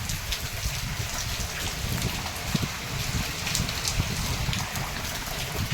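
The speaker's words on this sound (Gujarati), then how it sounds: "વરસાદ ચાલુ છે અત્યારે" Steady rain patters on surfaces nearby, a constant hiss with scattered drop impacts and a faint low rumble underneath.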